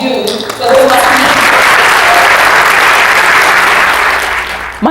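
A keynote audience bursts into loud applause after a brief trail of a speaker's voice, the many hands clapping building quickly into a dense, sustained roar that holds steady, then eases slightly at the end.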